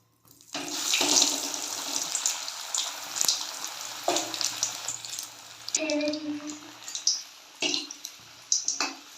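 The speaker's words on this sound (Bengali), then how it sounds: "এবার আমি তেলের মধ্যে দিয়ে দিচ্ছি" Stuffed green chilli pakoras coated in batter are slipped into hot oil one after another, each drop setting off a loud hissing sizzle burst that fades before the next, close and with no other sound.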